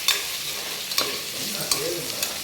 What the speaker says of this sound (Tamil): 2 தக்காளி கட் பண்ணி வச்சதை சேர்த்துக்கலாம். இதுவும் நல்லா வதங்கட்டும்.